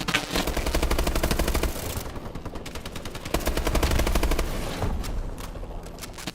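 BAL 27 Obsidian Steed rifle from Call of Duty: Advanced Warfare firing long rapid automatic bursts, loud and close, with brief pauses between the streams of shots and no talking.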